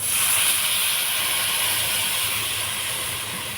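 Creamy milk poured into grated coconut already browned in ghee, giving a loud, steady hiss and sizzle that lasts the whole moment and eases off slightly at the end, with no voices.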